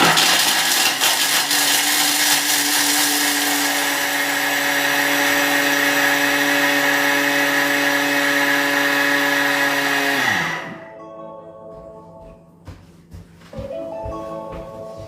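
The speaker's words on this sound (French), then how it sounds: "insérer couvert, on mixe, ça va faire du bruit, je vous préviens" A kitchen food processor whirs loudly at high speed for about ten seconds, then winds down, followed by quieter clattering and a brief restart.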